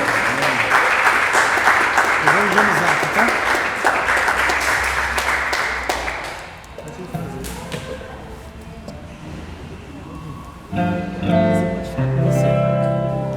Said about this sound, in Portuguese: Dá uma salva de palmas a Jesus, porque Ele merece